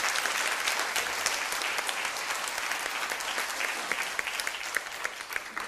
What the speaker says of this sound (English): Give them the biggest round of applause,